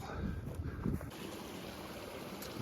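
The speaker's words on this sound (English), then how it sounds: "Willow Creek is fine. I can just step across." Willow Creek flowing at a backpacking trail crossing in Moosehorn Valley, a soft continuous wash and trickle of shallow water, fairly faint and steady, with a few brief rustles early on.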